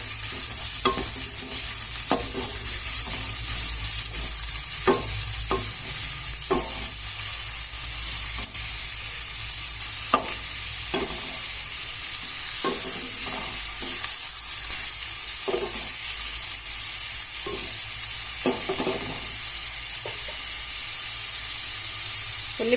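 Onion pieces and green chillies fry in a pan for a curry, giving a steady bright sizzle throughout, broken by repeated short scraping stirs of a spoon, close and continuous with no talk.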